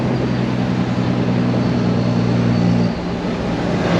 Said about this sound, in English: A truck is now driving out